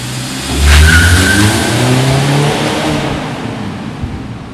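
A 2016 Mazda 6 2.5 sedan accelerates on a highway, its engine rising in a loud, close revving surge that settles into a steady road drone with tyre noise for several seconds.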